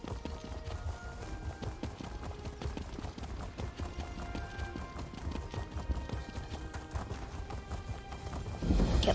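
A horse gallops in The Elder Scrolls Online video game, with fast, steady clip-clop hoofbeats close up over a busy game soundscape and a louder burst at the very end.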